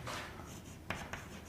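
Chalk or marker writing on a board in a maths lesson on relations and functions, a brief run of scratchy strokes with two sharp taps near the end, close and fairly quiet, with no talk.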